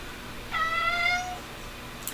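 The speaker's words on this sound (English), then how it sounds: "My cat says hello." A house cat gives a single clear, drawn-out meow indoors, close and moderately loud over a quiet room background.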